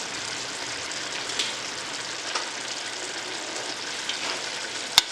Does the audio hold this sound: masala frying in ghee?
yes